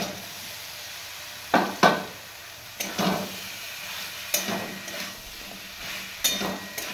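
Okra hits a pan of frying spice paste over a low background sizzle, followed by several distinct scraping stir strokes spaced a second or so apart.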